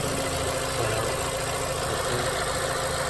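A 2011-2017 VW Jetta 2.0 liter engine, just fitted with a new camshaft position sensor after a P0340/P0341 fault, idles with a steady, even hum and a faint mechanical rattle, heard up close and alone.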